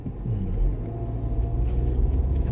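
Cars passing on a Montreal street at night, a steady close low rumble of engines and tyres that swells slightly as vehicles go by, with no voices.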